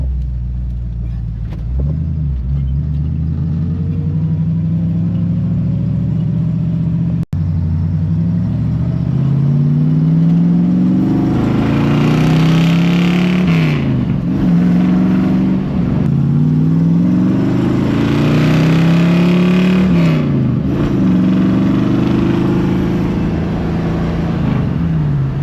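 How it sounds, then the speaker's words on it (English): A 1968 Ford Mustang on a road drive after a water pump install. The engine rumbles loudly from inside, rising and falling through repeated gear changes as it accelerates. "let's go take it on a decent little test drive, make sure we don't overheat"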